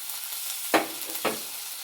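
Boiled beef fries with coriander powder in a pan, giving a steady close sizzle broken by two distinct scraping strokes of stirring, with no voices.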